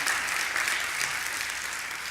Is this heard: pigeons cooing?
no